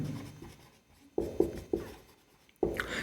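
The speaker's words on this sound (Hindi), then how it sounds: "एक मैं एक्सपोनेंशियल फंक्शन लिख रहा हूं" Chalk or marker writing on a board during a mathematics lecture on logarithms, four or five sharp scratchy strokes tapping out in an uneven rhythm, close and clear with near silence between them.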